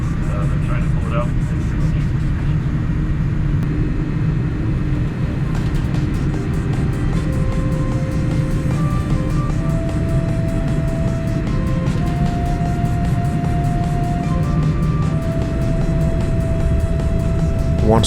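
An Air Canada Boeing 787-9 takes off from Toronto Pearson in a severe snowstorm, a loud steady engine roar heard from inside the cabin, with faint rising tones and occasional rattles.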